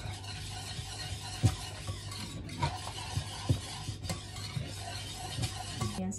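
Batter being mixed in a bowl, with soft, steady scraping and stirring plus a few light taps against the bowl, close by and alone.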